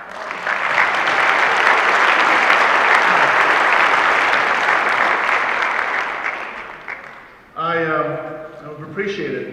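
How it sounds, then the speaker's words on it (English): An audience at the 2013 Utah County Republican organizing convention applauds loudly for about seven seconds. The clapping fades, and then a person begins speaking. "would you please applaud the defeat of Matheson right now."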